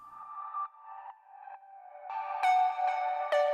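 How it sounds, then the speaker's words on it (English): Square-wave pluck synth notes with a reverse reverb swelling into each attack, a short melodic phrase with separate tones that grow louder and brighter toward the end, heard alone. "And then at some point I made a reverse reverb for it."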